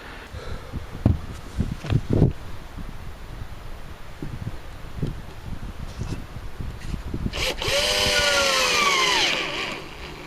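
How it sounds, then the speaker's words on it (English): A few short, sharp mechanical bursts and knocks, then a sustained whirring cordless drill rising in pitch for a couple of seconds before stopping. "So we'll drill them down probably about a 1/4 inch"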